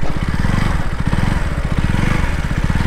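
Engine of a 2023 KTM RC 200 motorcycle while riding, a loud, steady, throbbing single-cylinder drone with rapid pulsing firing beats held close and continuous throughout.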